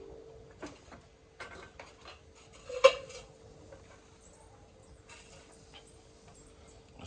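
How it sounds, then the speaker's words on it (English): A cooking pot is set down with one clear metallic clunk, then faint kitchen clatter while a steady hum runs beneath, in an outdoor Jamaican cooking setting. "So I'm gonna put the pot here now to get the oil hot."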